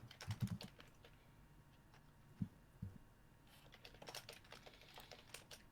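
Someone typing on a computer keyboard indoors: a few scattered bursts of keystrokes with pauses between, fairly faint against a low background hum, no talking.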